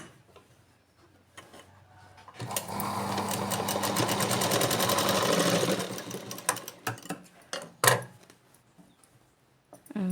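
Ordinary household sewing machine stitching maggam embroidery work, a steady rapid mechanical ticking run lasting several seconds, then stopping into scattered handling clicks and knocks close by.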